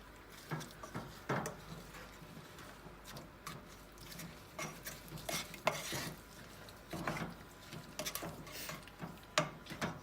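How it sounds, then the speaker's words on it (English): Blueberries coated with sugar and cornstarch are mixed in a bowl, a soft wet squelching and repeated light scraping of a utensil, close and steady with no talking. "And now I'm just gonna mix it so that, just like the cornstarch, the sugar gets"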